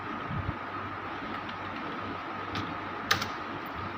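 Typing on a computer keyboard while entering text in Microsoft Word: a steady stream of soft, close key clicks with a slightly louder tap near the end, over faint room hiss and no speech.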